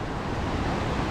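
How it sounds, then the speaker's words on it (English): A small mountain waterfall near the Packer Lakes backcountry rushes in a dense, steady roar, close and loud, with no breaks or voices over the short stretch. "cute little waterfall like right there"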